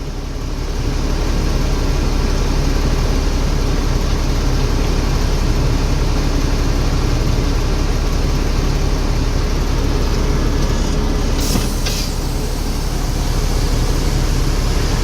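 A truck's diesel engine idles in neutral while building air brake pressure, a steady close low rumble with a continuous hum and a brief airy hiss near the end.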